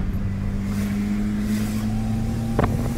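Chevrolet Celta 1.0 turbo running an exhaust without a muffler, a steady deep engine drone close by with wind buffeting the mic and a short sharp knock near the end.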